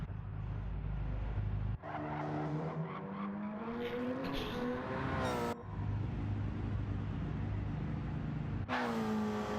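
Race car engines in a racing video game roar loudly and continuously, pitch sweeping up and down as cars run and pull into the pit lane, with brief cuts between shots and no talk.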